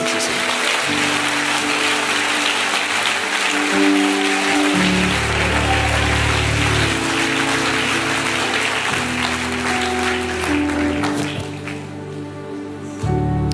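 Congregation applauding during a French-language charismatic church service, a steady continuous wash of clapping over sustained music, loud throughout and easing slightly near the end.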